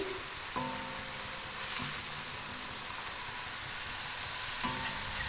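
Yogurt goes into chicken karahi that is frying with garlic and ginger, and a loud, continuous sizzle fills the clip, broken by a few metallic stirring scrapes and clinks.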